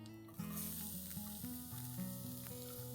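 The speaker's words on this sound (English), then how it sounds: "Once these begin to splutter, I'll add in chopped garlic." Chopped garlic sizzles in hot oil in a pan, a steady bright hiss that swells after the first half second and runs beneath prominent background music.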